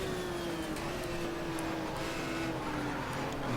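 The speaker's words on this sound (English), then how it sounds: "There's definitely a car very close behind me, I can hear it." Race cars in the GTR 2 driving game scream around a track near a sweeping corner, a sustained engine note holding steady under faint tire and mechanical noise as another car runs close behind.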